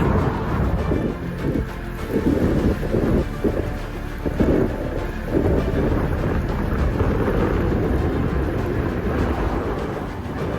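Strong headwind buffeting a microphone while cycling on a road during interval training, a loud continuous low roar with gusty surges and no talking.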